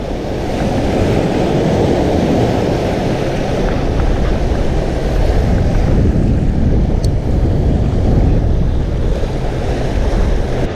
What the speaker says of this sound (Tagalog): Grabe, ang lakas ng alon mga to oh.